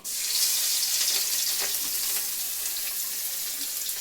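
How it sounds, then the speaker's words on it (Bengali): Garlic frying in hot oil in a pan gives a steady, loud, hissing sizzle that fills the whole stretch without pause. "রেখে সেই তেলের মধ্যে এই যে রসুনটা দিয়ে দিচ্ছি।"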